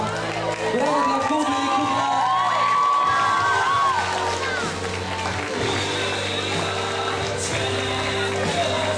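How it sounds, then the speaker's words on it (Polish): A studio audience cheers and whoops for a contestant on a game show, loud and sustained, with children's shouts and a presenter's voice mixed through the crowd noise. "Wielkie brawa dla Dominiki."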